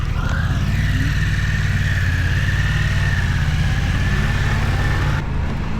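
A Maeving motorcycle pulls away from a stop, giving a loud, steady close-up whir with a whine that climbs in pitch as it gains speed and then cuts off near the end.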